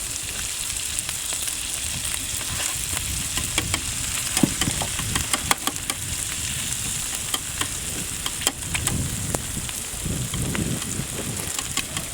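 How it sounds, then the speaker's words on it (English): Eggs being chopped and scrambled in a hot pan for Cajun fried rice, a steady close sizzle and fry with scattered clicks and scrapes of a utensil against the pan throughout. "We're then going to go ahead and chop up these eggs a bit. Get them scrambling nice."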